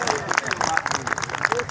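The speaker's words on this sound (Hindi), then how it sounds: "तालियां कमजोर हैं आपकी" Applause from the audience at a Hindi kavi sammelan poetry gathering, a loose patter of claps over about two seconds, mixed with crowd murmur and voices.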